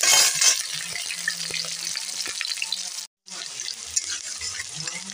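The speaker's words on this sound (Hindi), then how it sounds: "एबे आमे एथिरे प्याज पकेइ देबा" Onions sizzle in hot mustard oil in a pan for a fish curry, giving a loud, steady frying hiss with faint stirring and one brief drop to near silence partway through.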